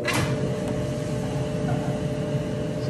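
A Maytag gas dryer starting up and spinning, a steady low mechanical hum and rumble with a steady drum drone, close and moderately quiet after a brief click at the start.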